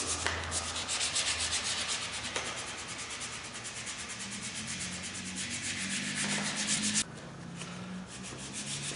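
Sandpaper rubs back and forth over a wooden Romanian AK-47 gun stock in steady, close, scratchy strokes, continuous and fairly loud with no talking, and a brief break near the end.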